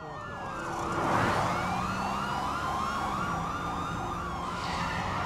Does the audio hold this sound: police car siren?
yes